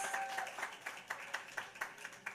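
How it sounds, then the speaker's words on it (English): An audience at a Jerusalem conference event in New York claps hands, a faint, steady run of rhythmic claps heard at a distance. "let's clap hands for ourselves"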